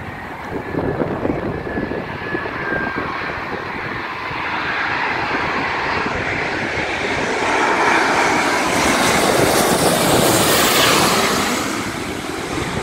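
Qatar Airways Airbus A350-1000 jet flying overhead, a broad roaring engine rumble that swells steadily louder over several seconds, peaks as it passes, then begins to ease, with no talking.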